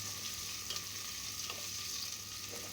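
Chicken pieces and ginger fry in a pan for tinola, a soft continuous sizzle broken by a few light scrapes of a spoon stirring, close by and fairly quiet, with no one speaking.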